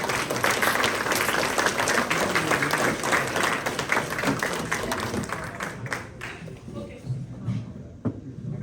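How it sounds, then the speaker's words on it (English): A big round of applause from a Rotary club audience, dense clapping that is loud at first and then thins out and tapers off toward the end. "let's give her a big round of applause"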